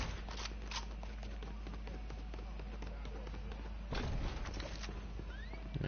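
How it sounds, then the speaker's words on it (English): Footsteps in the Fortnite video game, a run of quick light taps coming from somewhere nearby under steady game ambience, with a brief louder burst partway through. "I hear their footsteps."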